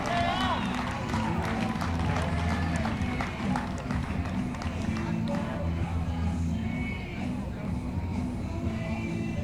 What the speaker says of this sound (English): J.R. Kitchens gets a nice round of applause.